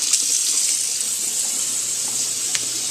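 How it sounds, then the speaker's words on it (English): Hot water running from a tap over a denture, a steady close hiss of flowing water with a few faint clinks, no talking. "So I'm going to go ahead and run this under the hot water now."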